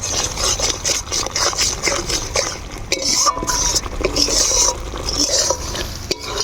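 A spoon scrapes and clinks around a pan as salt and cumin powder are stirred into simmering matar paneer gravy, with irregular metallic knocks over a low background hum and faint sizzling throughout.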